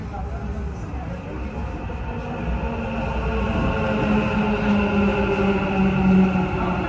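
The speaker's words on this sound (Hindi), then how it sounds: "The train to Centre Point will arrive at platform 1." A metro train rumbles and hums as it pulls into a Dubai Metro station, its steady drone slowly growing louder, with a humming tone rising toward the end.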